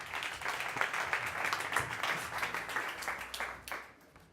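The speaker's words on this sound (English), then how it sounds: "Please, big applause for our next startup," Audience applause at a startup competition pitch session on a conference stage, steady dense clapping from a crowd lasting about four seconds, moderately loud and fading slightly at the end, with no speech over it.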